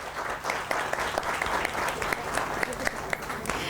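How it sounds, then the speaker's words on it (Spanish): An audience at a talk on pay equity and gender applauds the speakers, a steady, somewhat distant wash of many hands with occasional sharper claps poking through, fairly quiet overall. "Le brindamos un fuerte aplauso"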